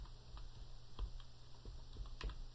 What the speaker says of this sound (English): I'm going to type in keyboard.